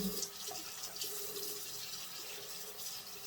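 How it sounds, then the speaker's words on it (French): Warm water runs from a tap into a sink as a steady, soft, continuous splashing rush, close and alone without any talk. "Alors moi, je mets de l'eau tiède."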